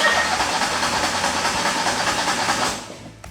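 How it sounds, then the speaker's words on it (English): A Hurricane ride-on floor scraper's engine cranks over steadily from a seated position, a loud continuous mechanical churn with rhythmic low pulsing that cuts off abruptly near the end. "We're going to crank the engine over."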